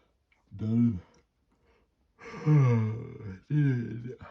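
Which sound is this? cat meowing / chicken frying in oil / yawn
yawn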